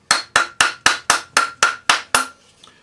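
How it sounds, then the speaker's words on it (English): A rawhide hammer strikes an annealed, soldered bangle on a steel bracelet mandrel nine times in a steady, even rhythm, each blow a close, sharp knock with a short ring, followed by a faint shuffle. "Round it up with a rawhide hammer."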